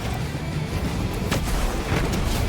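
Gunfire in the video game Fortnite: a few sharp, muffled shots pop at a moderate distance over a steady background rumble.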